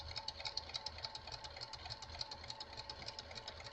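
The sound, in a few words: sewing machine stitching around a fabric pocket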